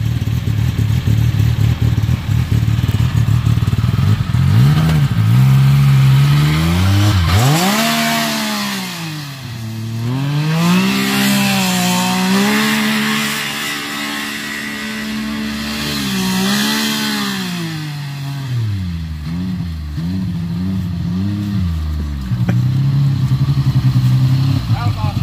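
Turbocharged Polaris RZR side-by-side revving hard with a rising and falling engine whine through several throttle sweeps, loud and close, with voices talking over it at the start and end.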